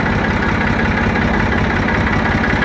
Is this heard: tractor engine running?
yes